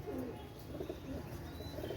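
Pigeons in a Bangladeshi pigeon seller's loft, including Pakistani and Oman Teddy pairs, coo softly and repeatedly in a low murmur under steady background noise, with no talking.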